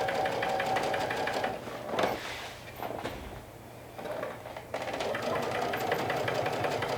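A sewing machine stitches piping onto a bucket hat, running in close, steady mechanical bursts with a short slowdown and pause midway before resuming.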